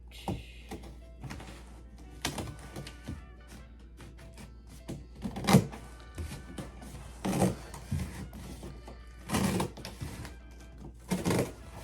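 Irregular crunchy snips of scissors cutting through cardboard, close by, coming in short bursts with quiet pauses between them.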